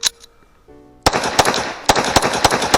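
Shots from a Tokarev handgun at an outdoor shooting range, several sharp, loud reports spaced unevenly after a quiet moment, each crack followed by a short ringing tail.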